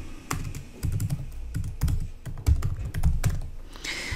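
Close computer keyboard typing while entering text into an HTML form, a quick irregular patter of clicks and taps that runs the whole time with no voice.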